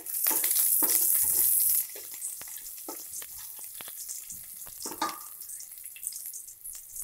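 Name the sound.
onion and garlic frying in oil for brinjal masala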